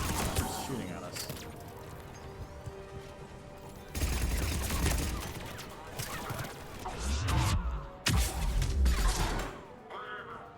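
Enemy turret fire in Mass Effect 3 sounds as bursts of rapid gunfire and heavy booming impacts, loud and close, swelling in waves over a dense mechanical battle din, with a player talking over the action.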